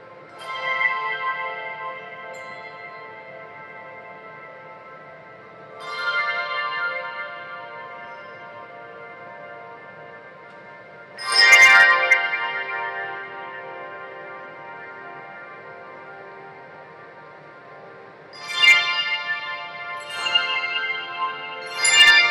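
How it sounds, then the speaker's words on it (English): More than 300 bell ringers play together at a conference, striking bright chords every few seconds that ring on with long, shimmering decays, loud and without voices. "That was a conference in which Gene and David Jones played with more than 300 bell ringers."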